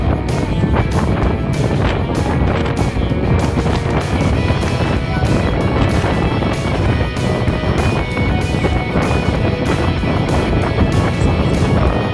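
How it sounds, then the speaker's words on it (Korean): Strong wind blows across an open lakeside campground, roaring and buffeting the microphone loudly and continuously throughout. "바람 너무 많이 불어서 무섭겠다"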